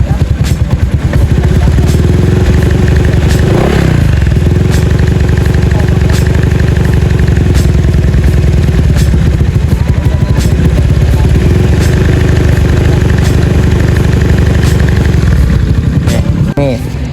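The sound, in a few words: modified Honda Vario 150 scooter engine running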